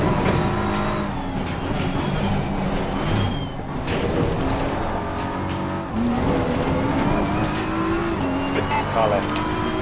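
Race car engines roar steadily in a racing video game, with tires squealing and skidding now and then, loud and continuous while a voice talks over the top.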